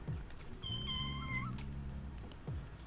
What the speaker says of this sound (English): What a cute kitty.